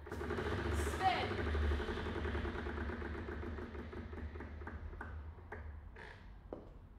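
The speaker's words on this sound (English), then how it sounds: "I'm gonna spin the wheel." A prize wheel spins on its pointer, giving a rapid run of ticks that gradually slow and thin out to a few spaced clicks as it coasts to a stop over a low background hum.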